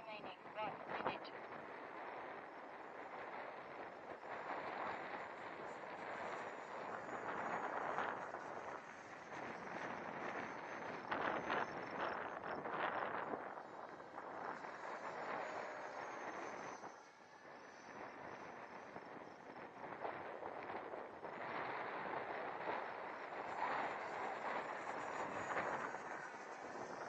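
Steady 10 to 15 mph wind buffeting the microphone in low rushing gusts that swell and ease, with a voice speaking intermittently over it.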